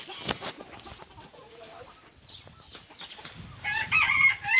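Silver Wyandotte chickens cluck softly in short scattered bursts, then a louder crow rises near the end, close and fairly quiet overall.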